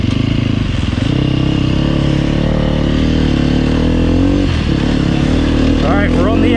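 A Sherco SEF300 Factory dirt bike engine idles and revs steadily, close and loud throughout, with a brief rise in pitch near the end.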